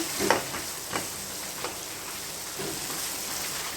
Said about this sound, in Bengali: আরও কিছু সামান্য তেল দিয়ে পেঁয়াজগুলো আমি হালকা ব্রাউন কালার করে ভেজে নিব